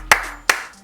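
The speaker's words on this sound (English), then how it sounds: "I already gave you a round of applause" One person clapping hands three times, sharp and close, evenly spaced, with no voices around it.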